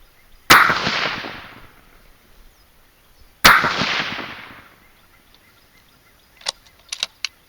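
Two loud, sharp rifle reports from a heavy-barrel .220 Swift firing 55-grain V-Max loads over IMR 4320 powder, each followed by a decaying outdoor echo, then a few small clicks.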